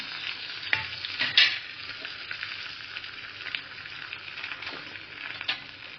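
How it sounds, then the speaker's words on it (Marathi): Cumin and mustard seeds sizzle steadily in hot oil for a tadka, a continuous bright crackle with a few louder spits and stirring scrapes, close and alone. "मस्त तडका झाला हा."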